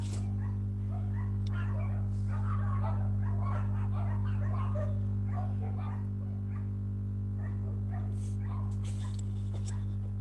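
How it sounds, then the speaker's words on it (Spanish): Dogs barking outside, a scattered run of yaps and barks heard at a distance over a steady electrical hum, with no speech. "están ladrando los perritos acá afuera."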